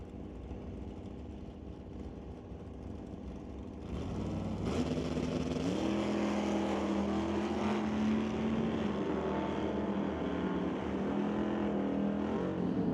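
A Chevy II and a Dodge Dart at a drag strip, engines droning steadily from a distance, then rising into a louder, sustained roar as the cars launch and pull away.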